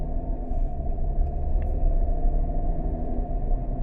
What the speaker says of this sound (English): Man, I hate driving this time of day.